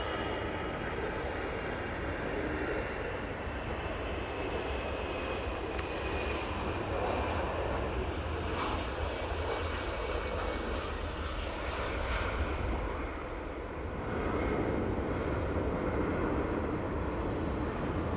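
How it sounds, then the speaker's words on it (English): An EasyJet passenger jet takes off from Manchester Airport bound for Geneva, heard from a distance as a broad, steady engine roar that stays strong and even throughout, with no talk. "there goes the EasyJet off to Geneva."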